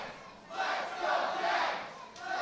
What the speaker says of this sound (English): you listen to this crowd